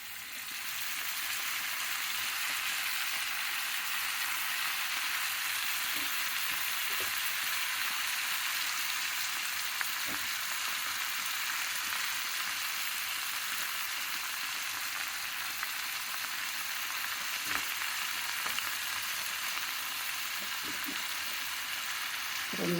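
Amaranth leaves frying with onions in a pan make a soft, even sizzle that continues for the whole stretch, with occasional faint clicks of stirring.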